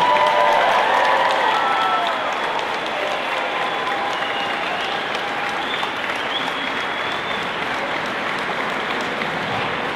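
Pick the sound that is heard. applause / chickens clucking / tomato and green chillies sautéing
applause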